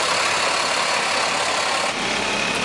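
A truck engine idles nearby in a steady, loud mechanical drone with a broad hiss over it, continuous and with no one speaking.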